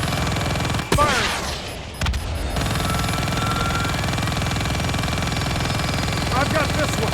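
Gunfire and explosions during an aerial combat sequence in Call of Duty: Black Ops 3 (2015), with sharp impacts over a constant loud engine-like roar and radio voices talking throughout.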